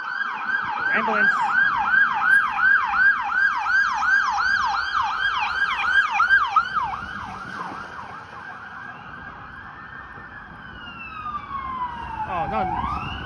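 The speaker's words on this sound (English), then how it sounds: "Oh no, another fire truck?" A fire truck siren on a Toronto street yelps in fast, even pulses and then drops into a slower wail as it passes. Traffic rumbles underneath, and a brief voice is heard near the end.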